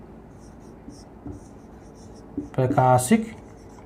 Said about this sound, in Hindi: चलिए लिख ही देते हैं